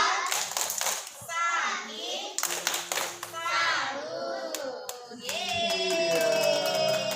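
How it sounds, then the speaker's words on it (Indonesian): Kindergarten children in Aceh perform a rhythmic clap salute, a run of sharp group hand claps mixed with their chanting voices and an adult speaking, fairly close and lively. "tepuk salut."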